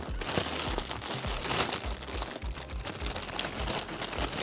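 Plastic bag holding a weighted vest crinkling as it is handled, a close, continuous rustle broken by irregular crackles and soft bumps.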